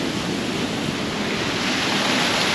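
A small waterfall near Mussoorie on the way to Mossy Fall roars as a loud, steady, broadband rush of falling water, close by and unbroken.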